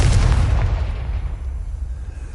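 Confringo spell explosion in the fantasy game Hogwarts Legacy: a single heavy boom with a deep low thump that rolls off into a fading rumble over about two seconds, heard alone.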